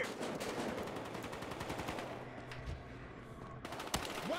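Automatic gunfire in the Battlefield Hardline multiplayer shooter: dense, rapid bursts of shots fill the first half, then thin out to scattered single cracks and a final sharp report, with no talking.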